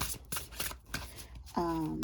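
A deck of tarot-style pick-a-card cards is shuffled by hand in a series of quick rustling riffles and taps, close and fairly quiet, before a brief tonal sound at the end.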